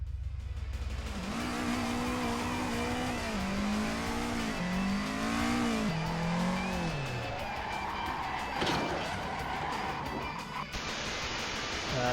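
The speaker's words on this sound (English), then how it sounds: "Modest upgrade in this case being a 500 odd horsepower V6" A roughly 500-horsepower V6 engine in a car on a drag strip in the Assetto Corsa racing game roars loudly, revving upward through several rising gear pulls with pitch drops at each shift, then settling into a steady high drone.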